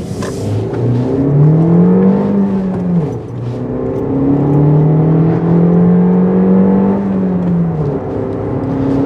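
A Suzuki Vitara AllGrip 1.4 accelerates hard, its engine note climbing through two rising sweeps with a brief dip at the gear change, loud and steady from inside the car.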